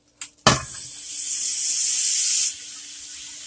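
Chopped onion dropped into melted butter in a hot skillet, a sharp hit followed by a loud, steady broadband sizzle lasting about two seconds before cutting off abruptly.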